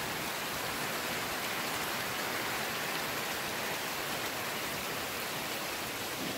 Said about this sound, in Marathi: सगळे शेतामध्ये सगळीकडे पाऊस चालू आहे।